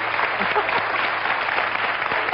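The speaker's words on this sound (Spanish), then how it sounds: "vamos a darle un aplauso al alcalde" Audience applause for a mayor at a Spanish broadcast event, a brief, even, continuous wash of clapping at steady loudness without pauses.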